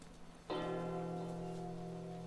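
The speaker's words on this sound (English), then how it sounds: "You can hear the bell." A bell rings in The Last of Us video game, one strike that blooms into a sustained, ringing tone and slowly fades, heard fairly clearly over a low background hum.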